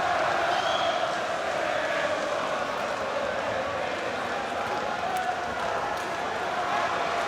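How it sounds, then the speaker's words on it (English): A large boxing crowd chants for Tony Bellew at a WBO world light heavyweight title fight, a steady roaring wall of voices that fills the arena throughout. Commentary may sit faintly underneath. "The chants in the background are for Tony Bellew."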